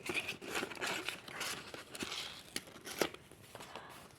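Paper surprise packet themed on Squid Game being unwrapped by hand, giving close, quiet crinkling and rustling with small sharp crackles and a louder crisp snap near the end.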